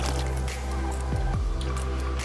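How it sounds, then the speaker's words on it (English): Pilsner beer is poured vigorously into a glass, with a continuous fizzing, foaming rush and a few gurgling splashes, heard close up. "we are going to pour this vigorously into the glass"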